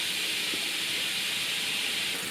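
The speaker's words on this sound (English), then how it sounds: "I'm going to cook the mushrooms in some oil for, I don't know, maybe 10 minutes." Mushrooms cooking in oil in a pan give a steady, even sizzling hiss throughout, close and unbroken, with no talk.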